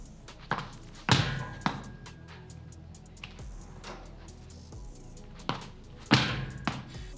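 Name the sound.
rotational medicine ball slams from the knees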